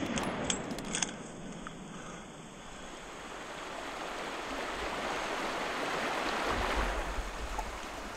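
Creek water rushes steadily during a creek crossing in the Snowy Mountains. The broad flowing wash swells slightly toward the end, with a few brief clinks near the start and no talk.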